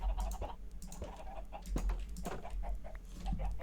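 Chickens in a video game cluck softly over a steady low hum, with scattered clicking sounds; no one speaks.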